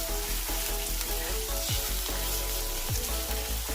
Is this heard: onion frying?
yes